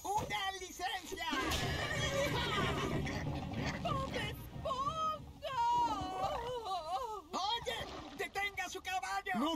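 A cartoon horse neighs and whinnies in the SpongeBob The Cosmic Shake video game, loud, drawn out and wavering, with game music underneath.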